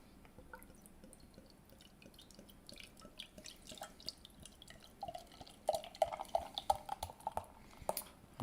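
Beer is poured into a glass, a soft, quiet trickle and fizz that grows into louder glugs and splashes toward the end, heard close with no talking.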